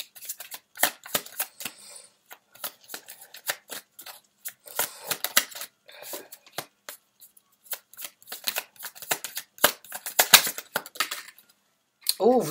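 A deck of tarot cards is shuffled close by in rapid, crackling bursts of riffles and slides that run almost continuously, before a voice briefly starts speaking at the end.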